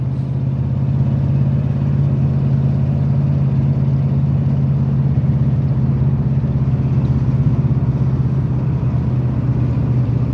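A wood-gas-fuelled truck engine accelerating up close, a loud steady low drone that holds level throughout with no pauses.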